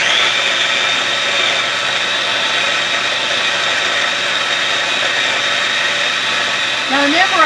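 Small powerful kitchen gadget grinding meat for meatloaf, a loud steady high-pitched motor whine that runs continuously and strains briefly near the end.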